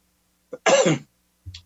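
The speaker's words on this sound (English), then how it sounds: "as I cough" A single short, close cough, with a small throat sound just before it and a faint sound after.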